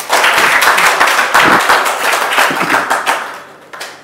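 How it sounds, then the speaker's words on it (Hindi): Hands clapping at a devotional gathering during a morning discourse, a dense run of claps from several people continuing steadily and then thinning toward the end. "ताली बजा दो सर"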